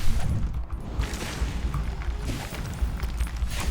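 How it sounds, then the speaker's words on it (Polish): Fireworks burst in the LEGO Harry Potter video game, a dense, continuous rumble of booms and crackling pops at a loud, fairly even level. "O, fajerwerki jeszcze puściliśmy. Jezus Maria, wszystko tu wybucha, no."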